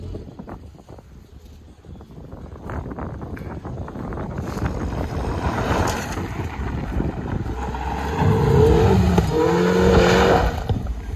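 Mini Cooper S engine straining and revving as the car climbs a dirt mound, a rough, building roar mixed with wind buffeting that grows louder toward the end.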